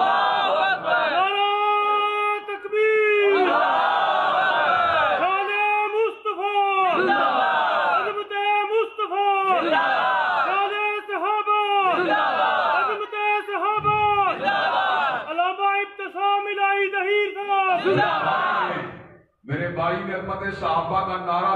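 A large crowd at a religious gathering in Jhelum chants the takbir slogan in loud, repeated voiced bursts, with each swell of massed voices answering in rhythm and a brief pause near the end.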